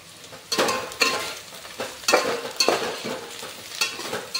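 Onion and green chili sautéing in a pan for chicken biryani, with a steady sizzle broken by regular scraping stirs roughly every half second, close and fairly loud, with no talking.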